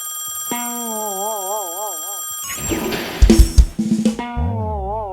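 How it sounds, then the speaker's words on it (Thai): An old-style telephone bell rings in trilling bursts over a warbling tone, followed by thumps and clatter near the end. "โอ้โทรศัพท์ดัง"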